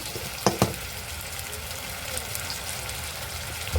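Ground spice paste being stirred into a Marathi fish curry in a pan, a low continuous sizzle and bubbling with two quick spoon knocks near the start, no talking.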